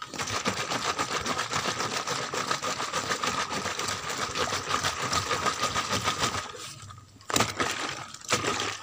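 A closed container holding urine and soil fertilizer mix is shaken hard, giving a steady, fairly quiet rattling slosh that runs for several seconds, pauses briefly, then returns in a couple of short bursts.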